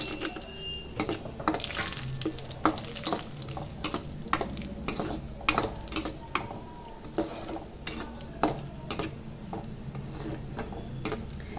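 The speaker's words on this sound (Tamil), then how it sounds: "திராட்சை வறுத்துக்கலாம்" Raisins and cashews fry in oil for a Tamil-style vegetable biryani, giving a steady bubbling sizzle broken by frequent clicks and taps of a spoon stirring the pan, with no voices.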